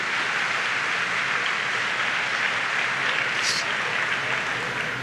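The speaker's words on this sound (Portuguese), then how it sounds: "Você está aplaudindo quem?" Church audience applauding during a sermon on marriage, a continuous dense wash of clapping held at an even level for several seconds.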